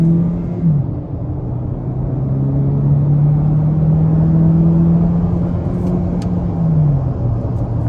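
2023 Hyundai Elantra Hybrid Blue accelerating while merging onto a highway, a steady loud cabin drone with engine pitch rising and shifting under road rumble, continuous throughout with no talk.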